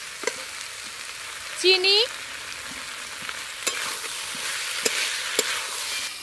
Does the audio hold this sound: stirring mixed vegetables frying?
yes